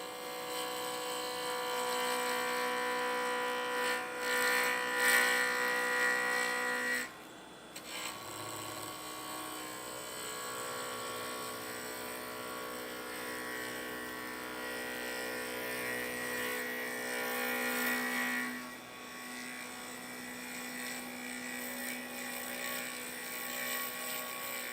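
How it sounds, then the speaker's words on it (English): Wood lathe turning a flower-pattern pen blank, the tool corner knocking off rough edges: a steady, loud whine and rasp of spinning stock and cutting, with a brief dip near the middle before the grinding resumes. "So I'm just using the corner of the tool to take off the rough edges."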